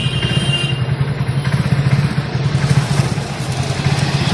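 A motorcycle passing on an open road gives a steady, fairly loud mid-pitched engine chug with a throbbing rhythm that holds throughout, with no voices.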